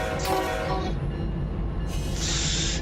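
Intermodal freight train rolling through in the Run8 railroad simulator, a steady heavy rumble of wagons passing with rail noise and a brief horn-like tone, continuous and fairly close.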